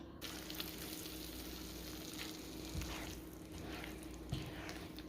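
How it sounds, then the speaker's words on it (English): Meat sauce simmers in a pot on a home stove, a soft, steady bubbling and faint sizzle, quiet and close with occasional small pops. "This meat sauce has been cooking for a couple hours now."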